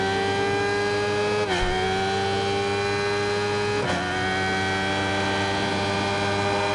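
Sport 600cc motorcycles racing in the video game Ride 5, a continuous high-pitched engine whine that climbs through the gears with two brief shift dips, loud and steady, without voices.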